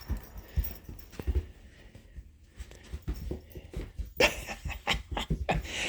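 Two excited dogs meet up close, with quick sniffing, snorting, panting and small whimpering sounds in irregular bursts that grow busier and louder toward the end.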